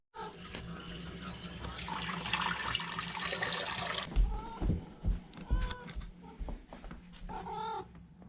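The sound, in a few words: water running from tap to fill pet's water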